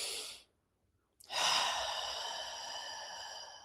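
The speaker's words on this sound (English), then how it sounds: "So take your deep breath" A single deep breath drawn in and let out in a long, audible sigh-like exhale, close and alone after a brief silence, taken before a group recites a community pledge.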